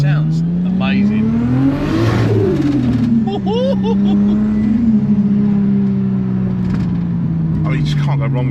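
A Ford Granada powered by a 2JZ Supra engine revs loudly close by, its deep engine tone rising to a sharp peak and then settling into a strong steady drone, with voices talking over it.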